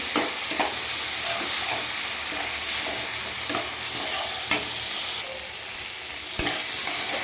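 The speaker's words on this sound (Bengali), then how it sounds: "সামান্য একটু জল দিয়ে আমি কষে নেব সুন্দর করে নেড়ে চেড়ে মিশিয়ে" Spice paste sautéing in a pan with a splash of water for shorshe ilish, a dense, continuous sizzle close up, with a light repeated scrape of a spatula stirring through it.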